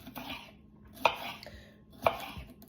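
Peppers tumble into a pan for a green bean stir fry, two clattering drops a second apart with metallic knocks and light rustling, fairly quiet and close.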